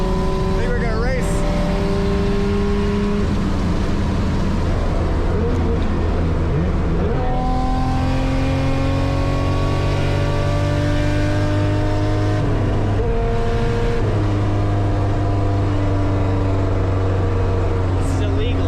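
Cars racing side by side on a highway, loud continuous engine roar with repeated climbing rev sweeps and gear changes, heard from inside one of the cars.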